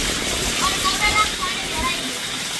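Steady hiss of record-breaking village rain falling, flooding a cattle shed, with a continuous wash of water sound and faint splashes throughout.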